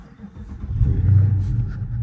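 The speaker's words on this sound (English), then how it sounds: "Let me get a quick cold start for y'all, and then we're gonna be on the road" Car engine turning over on a cold start, catching into a low rumbling idle that swells and holds close to the microphone.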